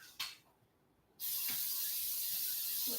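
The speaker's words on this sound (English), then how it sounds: "I'm going to spray it with my cooking spray, because, like I said, it's not expensive, and I don't want it to stick." Cooking spray hisses from a can into a wok in a home kitchen, starting with a click and then a steady, close, loud spray lasting a couple of seconds.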